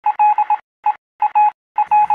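Telegraph Morse code beeps come in loud, clean tone bursts, short and long pulses grouped with brief silent gaps between the clusters, close and alone.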